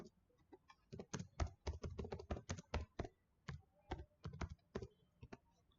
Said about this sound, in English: And I've pressed enter after typing the question.